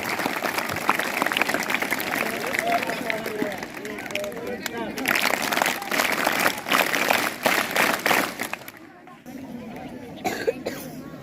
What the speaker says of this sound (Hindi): आपको गुजारिश है, जोर से ताली बजाएं।